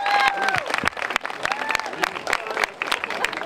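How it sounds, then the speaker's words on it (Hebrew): Applause from an audience at a city mayoral event in Acre, a dense crowd clapping loudly over a steady wash with a few cheers and voices mixed in. "כפיים!"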